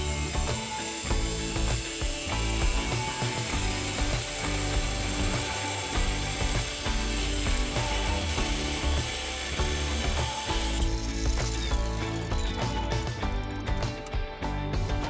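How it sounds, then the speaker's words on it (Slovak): A 1300 W angle grinder cutting steadily, its dense high-pitched whine and grinding rasp continuous and loud throughout, shifting tone about two-thirds through as the cut changes. "Začínam rezať uhlovou brúskou o výkone 1300 W."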